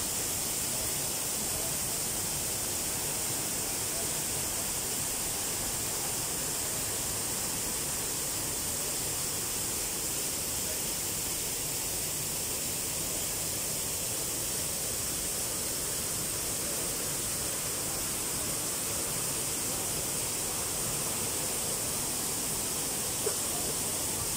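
Steady, loud rushing water roars without pause, a constant broadband wash from the powerful Daranak Falls in Rizal, Philippines, close by.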